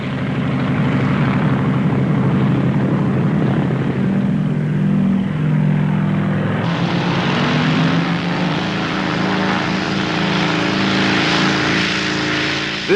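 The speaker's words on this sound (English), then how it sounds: "Scottish Aviation's twin Pioneer can take off in less than 100 yards." A Scottish Aviation Twin Pioneer, a twin-engined short-takeoff transport at a 1950s Farnborough air show, roars steadily and close as it takes off, its propeller drone shifting in pitch midway as the aircraft climbs away.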